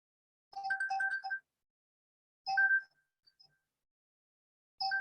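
A melodic phone ringtone for an incoming call chimes in three short bursts, one long and two brief, with silence between, clear and close, with no talk.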